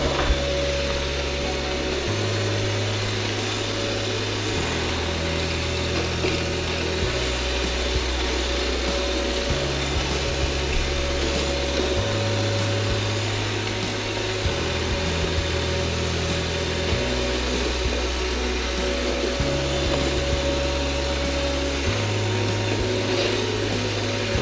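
An iRobot Roomba robot vacuum stuck circling on carpet gives a steady motor drone, its low hum stepping up and down in a repeating pattern as it turns, alone and moderately loud.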